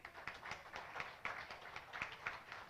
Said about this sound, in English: Can we have some applause for her?